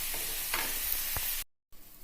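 Tomatoes sauté in a pan, a faint soft sizzle with a few light stirring clicks that cuts out briefly near the end before resuming quietly.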